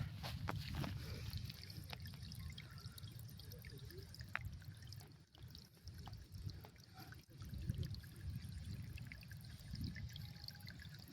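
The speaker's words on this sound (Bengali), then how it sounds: "দেখো এই পাথর থেকে জল বেরাচ্ছে।" Water trickles out of a rock near a waterfall, a faint, low continuous flow with scattered small drips and splashes, quiet and uneven throughout.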